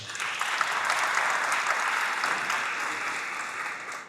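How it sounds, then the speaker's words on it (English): An audience at a geopolitical conference on the Dominican Republic gives a round of applause, a dense steady wash of many hands clapping in a large room that swells and then gradually fades out. "An applause for her."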